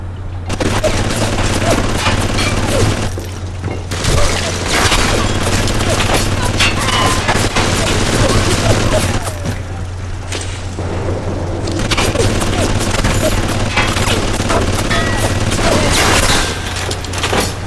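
Gunfire with anti-personnel rounds in the video game BioShock: dense, sustained bursts of shots and booms over a steady low game hum, with brief lulls between volleys.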